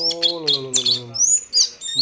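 Small caged birds for sale chirp and tweet at a bird seller's market stall, a quick run of bright, close calls with a few short pauses between bursts.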